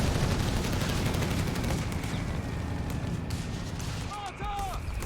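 Mortar fire and counter-barrage artillery in a strategy video game: a steady rumble of distant, overlapping explosions and gunfire, with a commentator talking over the battle noise.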